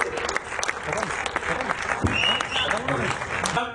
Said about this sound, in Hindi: एक बार जोरदार ताली इतने बेहतरीन प्रदर्शन के लिए